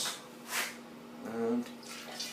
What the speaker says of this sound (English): I'm just going to basically just pour it through that hot bag, catch all the hops